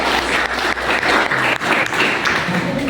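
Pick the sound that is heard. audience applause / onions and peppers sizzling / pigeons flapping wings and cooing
audience applause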